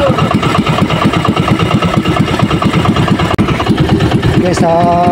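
A boat engine runs loudly and unevenly, misfiring, sputtering and chugging close by, with a voice speaking over it.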